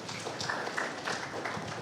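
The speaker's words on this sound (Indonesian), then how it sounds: "Oh, tepuk tangan." Scattered clapping from a church audience at a Sunday service, a fairly quiet, uneven patter of hands lasting under two seconds.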